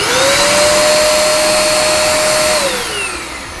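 A TOPPIN corded vacuum cleaner motor runs loud and steady with a high whine, then pitch drops near the end as it begins to wind down.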